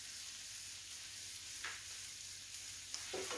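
Chickpeas frying with garlic and coriander in a pan: a quiet, steady sizzle that holds throughout, with a couple of faint clinks near the end.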